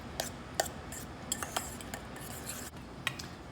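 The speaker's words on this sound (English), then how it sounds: "And we're gonna give that a good mix" A utensil whisking extra virgin olive oil, kosher salt and ground black pepper in a bowl: quiet, quick clinks and scrapes against the bowl, close up and irregular.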